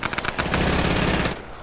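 A gun in the Fortnite video game fires a few quick separate shots, then a dense, sustained automatic burst that rattles loudly and close before tailing off, with no voices over it.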